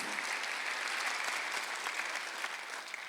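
Congregation at a Korean Sunday worship service breaks into sustained applause, a dense, even roar of many hands clapping heard on its own.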